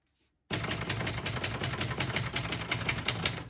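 A 1967 Brother Webster XL-500 portable typewriter being typed on, its keys striking in a fast, steady run of sharp mechanical clacks for about three seconds, close and clear with no talk.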